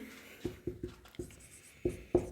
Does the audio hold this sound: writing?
yes